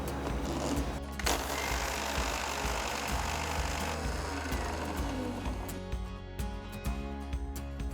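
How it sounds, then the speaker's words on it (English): A mixer grinder whirs loudly as it grinds mustard seeds to a fine powder, a continuous harsh motor buzz with the seeds rattling in the jar, then it starts to wind down near the end. "Add the mustard seeds to a mixer jar and grind it to a nice fine powder."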